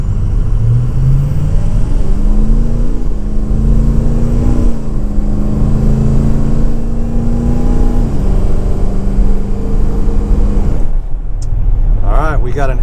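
A Ford 6.0 Powerstroke diesel pickup with an upgraded exhaust pulls hard under acceleration, its loud, close engine note climbing through gear shifts over about eleven seconds before easing off, with people talking inside the cab.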